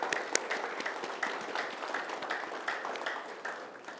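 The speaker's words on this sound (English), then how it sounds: "So clap for yourself" An audience in a leadership seminar room claps for itself, a moderate burst of overlapping hand claps with distinct sharp individual claps standing out, steady for about four seconds and tapering slightly.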